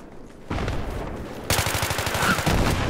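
Gunfire in the video game Battlefield 3: loud, close rapid bursts of automatic fire, with a heavier rhythmic volley in the second half.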